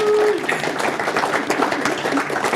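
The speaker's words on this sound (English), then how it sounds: "Let's give a round of applause to everybody." A round of applause for a team at a gathering, with crowd clapping throughout and a few voices mixed in.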